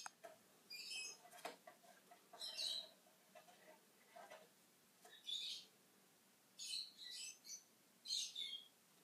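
Pet lovebirds give short bursts of high, thin chirps and tweets, several quick calls spaced out over a few seconds. They are close but soft against a quiet room.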